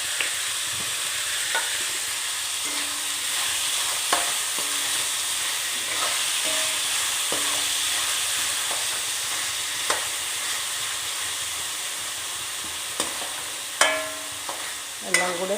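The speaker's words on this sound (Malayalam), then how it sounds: "തക്കാളി ഇട്ട് കൊടുത്ത് നല്ലവണ്ണം ഇളക്കണം. ഇളക്കി ഒന്ന് ഫ്രൈ ആവുന്നത് വരെ ഇളക്കി." Tomatoes frying in a pan for dal palak hiss with a steady sizzle while a spoon scrapes and clinks against the pan at irregular intervals, close and moderately loud.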